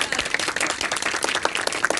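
An audience claps loudly in dense, irregular bursts, a close crowd of hands with no talking over it.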